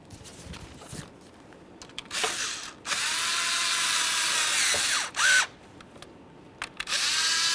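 Power tool tightening the three engine cover mounting bolts on a 2012-2018 Nissan Altima 2.5L four-cylinder, in a few separate whirring bursts of two to three seconds with short pauses and clicks between, close and fairly loud, no talking.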